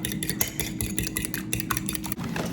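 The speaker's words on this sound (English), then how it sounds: "I'm just gonna whisk this up" Whisking one egg with salt and pepper in a bowl, a quick steady run of close, light tapping and scraping strokes lasting a couple of seconds, with no talking.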